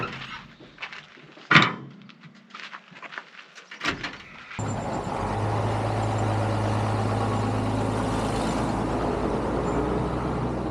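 Expedition vehicle rolling along an off-road BDR track on lowered tire pressure: scattered knocks and thumps at first, then a steady, close engine and tire rumble with a low drone that holds for several seconds.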